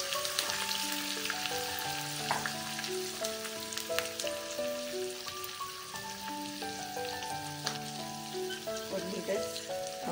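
Chopped green chillies sizzle in a hot tempering of cumin seeds and curry leaves for dadpe poha, a steady, soft frying hiss running beneath continuous background music.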